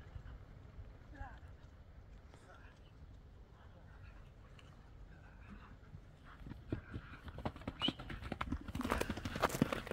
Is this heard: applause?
no